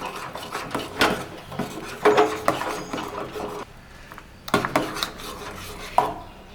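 A utensil scraping and clattering against a pot of thick millet porridge in irregular bursts, close by, with short pauses between rounds of stirring.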